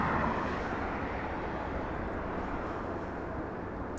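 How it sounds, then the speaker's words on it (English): An Alaska Airlines Boeing 737-900 departing from runway 25 right at Los Angeles International Airport, its engines a steady, broad roar held at constant loudness throughout. "Yes, it's a departure. It's Alaska Airlines flying to Seattle, Washington. Alaska 1147, a 737-900. Using runway 25 right for departure."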